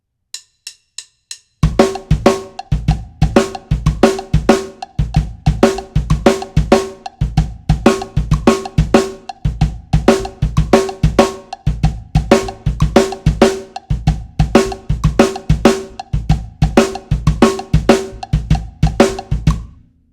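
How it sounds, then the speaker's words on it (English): Drum kit kick and snare playing an odd-meter 7/8 groove, a few soft opening taps followed by a steady, punchy, repeating pattern played alone with no other instruments. "the kick and snare rhythm that we'll use on its own sounds like this"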